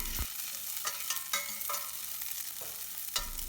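Green chilies, ginger and curry leaves frying in a pan with a steady close sizzle, broken by several sharp stirring scrapes and clinks, with no talk.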